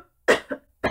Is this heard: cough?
yes